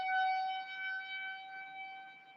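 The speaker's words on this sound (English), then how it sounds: "That is my tornado siren at 10 o'clock." A tornado warning siren sounds as a steady, loud wailing tone with strong harmonics, holding level throughout with only slight swells and no other sounds.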